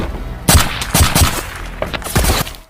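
Gunfire erupts in a film shootout, with loud bursts of shots in quick clusters that come back again and again over a dense action soundtrack.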